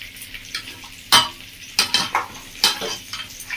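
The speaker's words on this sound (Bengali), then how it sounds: "লবণটাকে আরো ভালো করে মেখে নেব।" Raw mutton is mixed with salt by hand in a village kitchen, giving soft wet squelches and a few sharp clanks against the bowl, close and intermittent with no talk.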